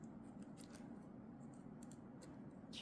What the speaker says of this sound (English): So I just like to trim them so that they will lay against that spoke that they're behind.